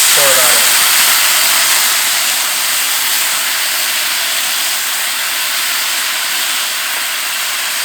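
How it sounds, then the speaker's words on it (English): Wine poured into hot toasted rice in a pan sizzles loudly and close up, a dense, steady hiss that starts strongest and settles slightly while holding on alone. "So it's immediately going to sizzle and almost go dry pretty quickly"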